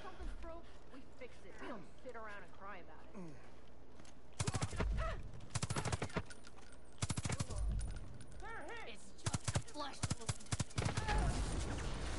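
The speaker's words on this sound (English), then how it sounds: "I'm just gonna snipe again" Gunfire in Far Cry 5, sniper rifle shots: a few loud, sharp cracks in separate bursts between stretches where someone talks casually over game background sound.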